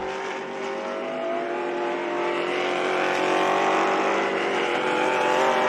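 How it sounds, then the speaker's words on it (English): Vintage race cars, including a Motul-sponsored Porsche, roar around a track in an SVRA vintage racing event, with loud sustained engine noise building steadily throughout and no talk. "What I love about all of these cars in these group is the sound."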